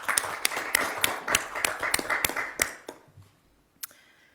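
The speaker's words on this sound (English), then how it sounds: "Can we give them a round of applause," A small group of councillors in a council chamber claps briefly, the sparse, evenly spaced claps ringing out close for a few seconds before tapering off to near silence with one late clap.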